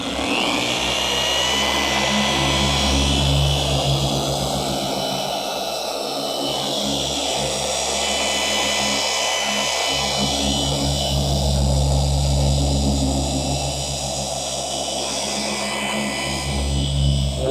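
A polishing machine buffs aviation aluminum at a low speed setting, giving a loud, steady whirring drone with a constant low motor hum that barely changes over the passes.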